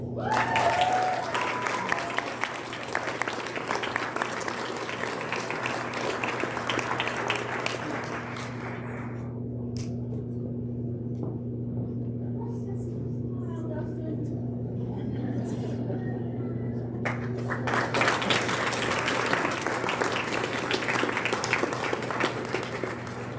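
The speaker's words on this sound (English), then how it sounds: "Can we get another big round of applause for these 19" Audience applause at a grade 12 celebration, a full hall of clapping that eases to a quieter murmur midway and then swells again near the end.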